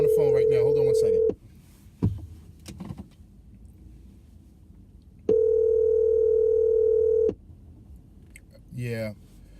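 A telephone tone sounds while a call is placed: two long steady beeps separated by a quiet gap, loud and close, with brief handling noises between them.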